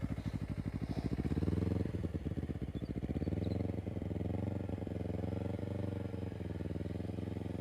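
A motorcycle engine drones close by during a slow turn with the rear brake applied, its pitch rising and falling as the revs are held up and eased, steady and continuous.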